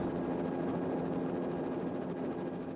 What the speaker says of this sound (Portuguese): Mark Davis não pode só assistir na segurança de seu helicóptero